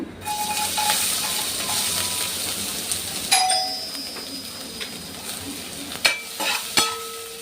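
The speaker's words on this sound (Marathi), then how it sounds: "तर आता तेल चांगलं तापलेलं आहे त्याच्यामध्ये आपण घालूया भरपूर सारा लसूण" Garlic sizzling in well-heated oil until golden, a dense crackling hiss throughout with occasional sharp metallic clinks of a spoon against the pan.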